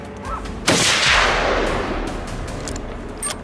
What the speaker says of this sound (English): A precise shot tore through the air, racing against the fleeing target's speed.